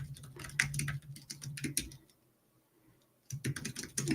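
Fast clattering keystrokes on a computer keyboard, close and crisp in irregular bursts, breaking off into a couple of seconds of silence before the typing resumes.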